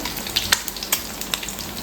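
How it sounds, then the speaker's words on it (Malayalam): Egg stir-fried in a pan with salt and pepper, a continuous crackling sizzle punctuated by sharp spatula taps and scrapes, close and alone. "നമുക്കത് അതിൻ്റെ കൂടെ ഇട്ടൊന്ന് ചിക്കി പൊരിക്കാം"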